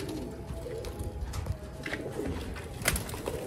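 Sialkoti pigeons coo softly in a loft, low throaty calls repeating under faint background rustle and a few sharp higher chirps, with no talk.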